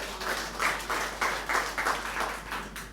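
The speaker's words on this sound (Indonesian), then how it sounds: "Tepuk tangan buat Tuhan." A congregation claps at a Sunday church service at GBI Hope Family, a steady wash of applause with rhythmic pulses, moderately loud throughout and fading slightly at the end.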